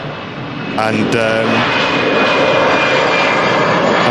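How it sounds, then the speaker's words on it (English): An EasyJet jet airliner takes off at Manchester Airport, a loud sustained engine roar that swells and holds close by, with someone speaking briefly over it at the start. "as that EasyJet just rockets past"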